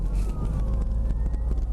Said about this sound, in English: where the fuck are those sirens?